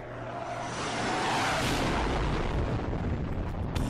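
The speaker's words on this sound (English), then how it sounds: "Here comes a jet. Flyover." A jet flying over in the game SurrounDEAD, a broad roaring rush that builds to a loud peak and then trails off as it passes overhead.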